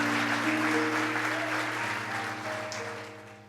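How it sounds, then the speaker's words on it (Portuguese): A church congregation applauds in a steady wash of clapping over a sustained organ or keyboard chord, moderately loud and gradually fading. "Aplauda o Senhor Jesus por isso, aplauda."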